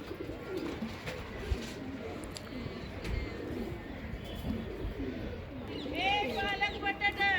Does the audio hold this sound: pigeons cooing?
yes